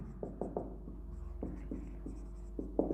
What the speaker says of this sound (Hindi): लिखेंगे यहां से